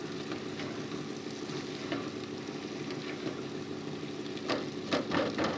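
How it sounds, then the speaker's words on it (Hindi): Potatoes fry in masala with chicken in a pan, giving a steady, soft sizzle that holds evenly throughout. It is quiet and continuous, with a few slightly louder crackles near the end and no talk. "अब हम इसमें डालेंगे, ये 2 आलू हैं, इनको डाल दूँगी। इनको भी 2 से 3 मिनट जो है मैं भून लूँगी।"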